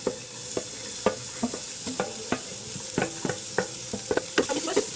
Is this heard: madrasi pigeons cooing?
no